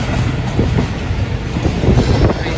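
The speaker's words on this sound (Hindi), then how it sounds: "कोई ट्रेन भी आ रही है डाउन में" A train rolls past on a railway line in Pakistan, a loud, steady rumble with rhythmic clickety-clack of wheels over rail joints, close by and unbroken throughout, no voices.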